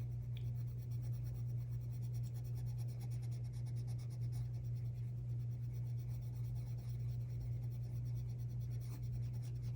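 Colored pencil rubbing and scratching steadily across paper while a garden-themed wallpaper design is colored in, a soft, continuous close-up scratch under a low steady hum.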